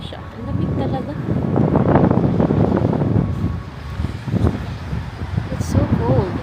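Cold, strong wind blows on an outdoor trail, roaring in loud, uneven gusts against the microphone, with a person's voice faintly audible beneath it.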